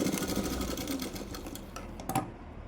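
Sewing machine running steadily as it stitches a cotton blouse, a continuous close mechanical whir with a brief louder burst near the end, no talking.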